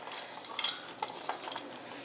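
Chopped dry coconut dry-roasting in a pan with no ghee or oil, heard as a steady close scraping and stirring rustle with a few light clinks of a utensil against the pan.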